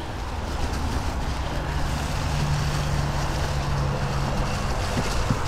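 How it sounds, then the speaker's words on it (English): Steady wind rushes and buffets the microphone on an autumn trail ride through woods with fallen leaves, a constant broadband roar that masks most other detail. "It does feel nice and breezy."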